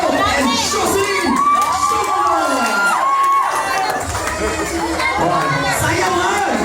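A crowd of wedding guests cheers, shouts and claps loudly and continuously, with children's shrill voices standing out in the excited din.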